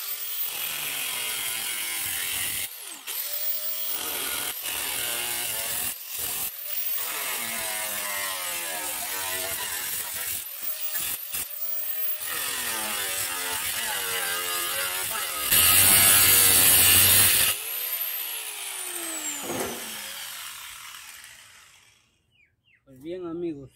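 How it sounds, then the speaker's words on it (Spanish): A tool cuts material to fit a motorcycle headlight mask, giving a continuous whirring, grinding buzz whose pitch rises and falls with short pauses and a harsher loud burst near the end. "Como ya tengo medido, ahora lo que me toca es cortar."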